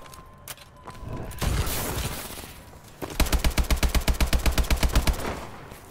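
Rapid automatic gunfire from the AE4 weapon in a Call of Duty match, a loud steady burst of evenly spaced shots in the second half, after a single shot and a rumbling blast earlier.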